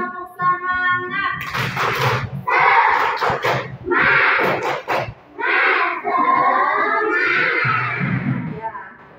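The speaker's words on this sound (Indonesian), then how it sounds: "Coba kita tepuk semangat dulu ya." Schoolchildren at an Indonesian elementary school perform a 'tepuk semangat' clapping chant, loud group voices shouting in rhythm with bursts of claps over about nine seconds.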